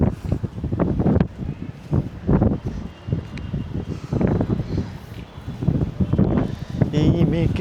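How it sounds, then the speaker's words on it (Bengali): Strong stormy wind gusts across a university hall rooftop in Dhaka on a rainy afternoon, buffeting the microphone in steady rough bursts beneath a person talking throughout. "প্রচণ্ড বাতাস"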